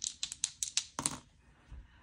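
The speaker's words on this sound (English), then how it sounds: "So let's roll two dice." Two dice rattle with a quick series of sharp, close clicks, then tumble onto a surface in one brief clatter, quiet and with no voices.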